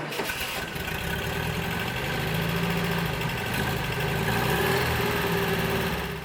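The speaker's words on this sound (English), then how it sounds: "Engine starts up, holds a very nice idle." A 1963 Porsche 356 engine cranks and catches, then settles into a steady, rumbling idle that holds evenly throughout, close by and fairly loud.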